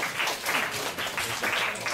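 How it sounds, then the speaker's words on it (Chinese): Applause in a university programming class for a student who answered correctly, a short burst of clapping from a roomful of students lasting under two seconds, with no voice over it. "来给同学掌声鼓励"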